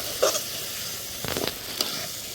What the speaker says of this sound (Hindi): ये मसाला मेरा भुन रहा है